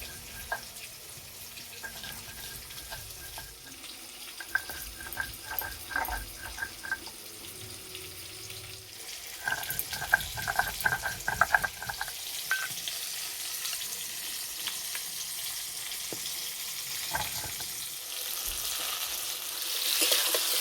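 Pumpkin pieces frying in a pan in a village kitchen give a steady, moderate sizzle, with brief stirring or clinking bursts and some watery running sounds in between.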